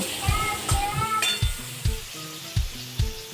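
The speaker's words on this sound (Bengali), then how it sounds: "এদিকে দেখো আলু ঝিঙেটা ফ্রাই হচ্ছে" Potatoes and ridge gourd sizzle steadily in a frying pan, a close, continuous hiss broken by regular low thumps and a few light clinks, with no talk.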